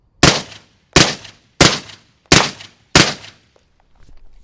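Five sharp, loud rifle shots from a suppressed 5.56 AR-15 with a Noveske barrel, evenly spaced about two-thirds of a second apart, each with a short decaying tail and no talk.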